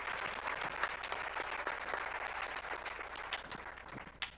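An audience at a Kenyan investors forum in Kilifi County applauds a panel, a sustained, fairly quiet crowd clapping with scattered sharper claps standing out.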